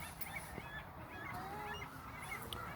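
A huge flock of snow geese honks nonstop during spring migration at Middle Creek Wildlife Refuge, a dense, continuous chorus of overlapping calls filling the air at moderate distance.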